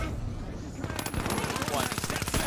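A turret fires in the shooter game THE FINALS, a fast, steady burst of rapid shots that starts about a second in and keeps going, loud and close over a busy game background.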